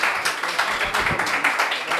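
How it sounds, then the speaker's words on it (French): A live audience applauds at a team game event, dense clapping filling the whole moment at steady loudness with a few sharper claps standing out. "Public, on applaudit pour les deux débuts"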